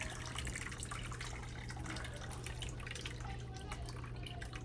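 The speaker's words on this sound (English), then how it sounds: "you pull this little valve off and you drain the tank" Water draining from a toilet tank into a bucket during a fill valve replacement, a close, steady trickling and dripping with a low background hum, no talking.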